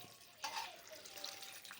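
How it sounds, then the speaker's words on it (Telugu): Tap water runs and splashes onto hot boiled cauliflower in a kitchen, rinsing it while making gobi 65; a faint, steady trickle and spatter with a slightly stronger gush partway through. "నార్మల్ వాటర్ వేసుకొని"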